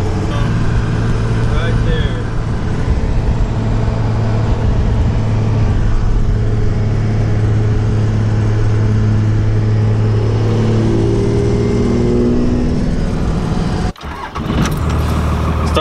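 A dually truck with a 12-valve Cummins diesel engine runs loud and close with a steady, heavy rumble. A sharp break near the end sounds like a restart or cut, and the engine noise comes back afterward.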